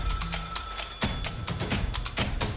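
A telephone rings in repeated bursts of bell-like ringing, moderately close, against a busy background.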